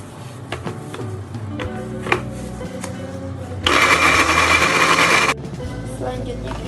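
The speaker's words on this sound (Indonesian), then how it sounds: "Selanjutnya kita blender hingga halus." Electric blender grinding chopped shallots, garlic, chillies and spices with cooking oil into a smooth paste, a loud steady whirring burst of under two seconds partway through, with kitchen clatter and faint talk around it.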